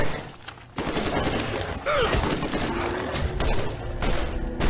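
Dense gunfire in the video game Borderlands, continuous rattling bursts with a short lull near the start, loud and close.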